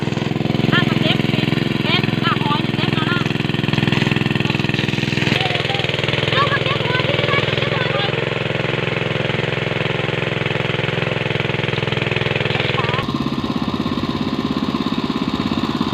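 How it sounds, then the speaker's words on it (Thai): An engine-driven pump drones steadily while draining water from a fish pond, a constant mid-pitched mechanical rumble with voices talking over it throughout. "เดี๋ยวนี้เฮากายังสูบน้ำออกอยู่นะ"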